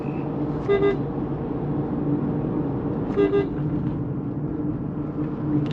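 Local car passing on a road in Kerala, with steady traffic rumble throughout and two short horn toots partway through, nearby and fairly loud.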